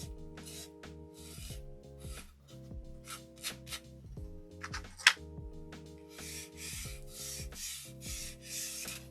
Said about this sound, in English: I'm just literally rubbing over the surface, and it gives it this